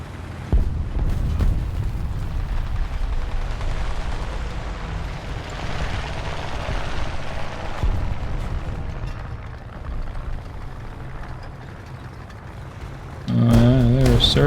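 A heavy tank in a tank battle game fires its main gun, giving a loud booming explosion that settles into sustained rumbling noise before a brief tonal beep near the end.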